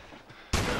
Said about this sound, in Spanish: ya empezamos con los disparos